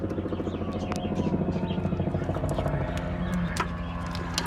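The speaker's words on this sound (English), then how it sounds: "Sounds like the helicopter's up there trying to find some bad people." A helicopter circles overhead, its rotor chop a steady low pulsing that carries along at moderate distance behind workshop sounds, with a few clinks from car work in a garage.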